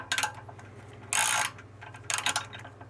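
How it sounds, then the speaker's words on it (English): Nuts are tightened with a ratcheting wrench during assembly of a Harbor Freight 8-inch 5-speed bench drill press: three short bursts of quick ratchet clicks, close and fairly loud, over a faint hum, with no talk. "and tighten these 2 nuts too"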